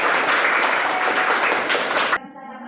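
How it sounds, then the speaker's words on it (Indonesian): A classroom of students claps together in a dense burst of applause that stops abruptly, leaving a quiet room. "Tepuk tangan."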